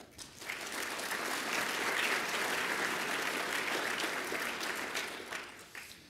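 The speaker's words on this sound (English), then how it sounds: "that deserves a round of applause" Dense, steady applause from a conference audience at a climate-change lecture swells quickly and holds for several seconds before tapering off, heard at a moderate distance with no speech over it.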